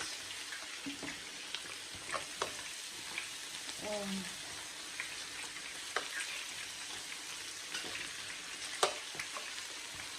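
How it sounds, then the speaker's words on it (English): Rice for coconut rice goes into a pot and is stirred, producing a soft continuous hiss and sizzle with occasional light scrapes and taps, moderately close, with a brief faint voice partway through. "I'm starting to add my rice"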